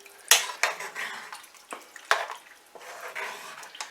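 A spoon stirs blueberry pie filling in a pot for canning, giving several sharp metallic clinks and knocks against the pot between wet, sloshing scrapes, close and fairly loud.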